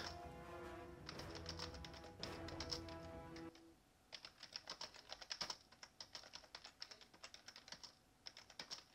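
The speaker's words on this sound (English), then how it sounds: "can probably hear my typing" Someone types on a computer keyboard in quick bursts of close, crisp key clicks, with a pause partway through and then a busier run of taps.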